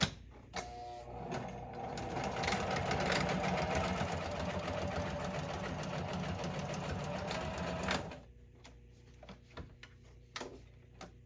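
A sewing machine stitches across the bottom of a hand-bound junk journal, a rapid mechanical whirring run lasting about eight seconds, then stopping, followed by a few faint clicks and handling sounds.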